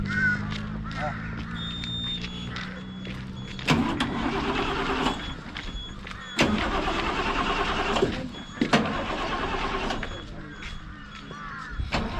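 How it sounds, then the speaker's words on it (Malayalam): A vehicle engine runs steadily near a roadside tea stall on the Srinagar to Doodhpathri road in Kashmir, with a low hum under wind, crow caws and a few sharp clunks. "പിന്നെ ആനന്ദിന്റെ ആനന്ദ് പവർ വിഷന്റെ വണ്ടി ഇവിടെ നിൽക്കുന്നുണ്ട്"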